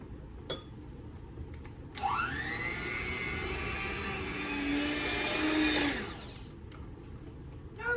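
Brownie batter is mixed with oil and water by an electric mixer, which whirs steadily and fairly loud for about four seconds after brief clicks, then cuts off.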